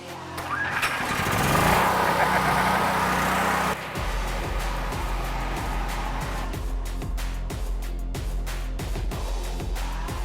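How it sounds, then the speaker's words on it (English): A generator runs steadily to power a MIG welder during an inner fender repair, loud and continuous for the whole stretch, with a rougher, surging start that settles into a regular pulsing engine drone. "Having to run a generator for the welder, so you will not be able to hear me at all"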